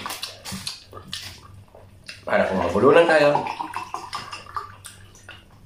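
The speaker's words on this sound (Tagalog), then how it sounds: "Salin muna po natin itong tubig." Drinking water poured into a glass at a home mukbang meal of chicken afritada, a steady trickle lasting a couple of seconds, close and moderately loud, with a voice talking before and after.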